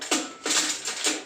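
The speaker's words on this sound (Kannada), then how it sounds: "ಸ್ಟವ್ ಆನ್ ಮಾಡ್ಕೊಳ್ಳೋಣ." Three sharp igniter clicks from a gas stove being switched on, evenly spaced and close, with nothing else around them.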